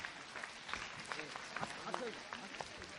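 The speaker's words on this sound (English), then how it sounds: "Huge round of applause." Quiz audience applauds the third-place team, a faint, scattered round of clapping heard at a distance with a few louder claps standing out.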